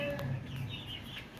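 Laying hens kept four to a cage in rows of new cages cluck and chatter steadily in a layer poultry shed, close and continuous with no talk.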